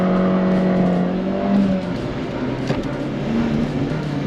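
Nitrous-boosted car engine held at high revs, a loud, dense, continuous roar with shifting pitch, close by and steady throughout.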